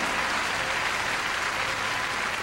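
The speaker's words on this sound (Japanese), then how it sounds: "大歓声でまたリンクに迎えられます" At the 2002 World Figure Skating Championships in Nagano, the arena crowd roars and applauds in a dense, unbroken wash of sound that stays steady and full throughout.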